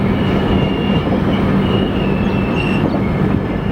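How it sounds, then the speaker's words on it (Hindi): A passenger train rolls steadily along the rails, a continuous loud rumble with faint wheel squeal and no voices. "ट्रेन वहाँ से निकलती है पूरा घूमते हुए यहाँ पर आती है"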